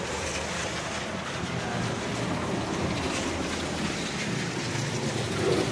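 Steady rain falling outdoors, caught by an inexpensive Dahua security camera: a dense, continuous broadband hiss that holds even and loud throughout, with no voices.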